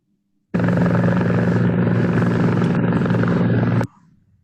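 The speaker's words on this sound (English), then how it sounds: "It's a helicopter." A helicopter's rotor and engine roar in one loud, steady burst of about three seconds, rich in low thudding tones, then cut off abruptly to a faint hum.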